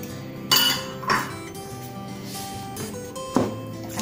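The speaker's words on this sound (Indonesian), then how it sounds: "kita aduk sampai merata" A spoon knocks and scrapes against a bowl while corn fritter batter is stirred, with a few sharp clinks standing out over soft mixing noise, close and fairly quiet with no talk.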